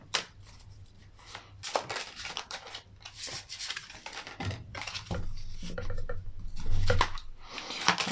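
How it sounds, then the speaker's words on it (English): Tarot cards are shuffled and drawn by hand close up, giving bursts of riffling, flicking and sliding card noise with soft taps and rustles between them, fairly quiet and with no talk. "I'll pull another card for this, maybe 2 cards."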